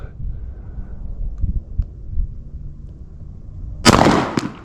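A single sharp, loud pistol shot from an S&W CSX near the end, preceded by quiet low rumbling and handling noise; no talking.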